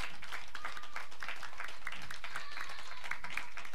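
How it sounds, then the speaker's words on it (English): An audience applauds armed forces veterans who have stood up at a church concert, steady clapping heard faint and somewhat distant for the whole stretch. "round of applause for these men."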